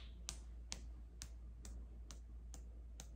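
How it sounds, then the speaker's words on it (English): A quiet, slow golf clap, about seven soft, evenly spaced claps over a low steady hum. "golf clap"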